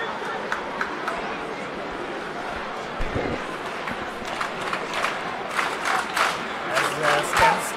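Stadium crowd at a Portugal vs USA autumn rugby international cheering for Portugal during a five-metre lineout, a broad steady roar that swells and grows brighter toward the end, heard under commentary.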